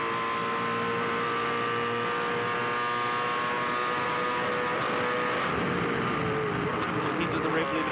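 A V8 race car engine at Bathurst in a 2007 Bathurst 1000 top ten shootout, screaming at high revs in sixth gear near 7,500 RPM with a hint of the rev limiter, loud and steady under commentary.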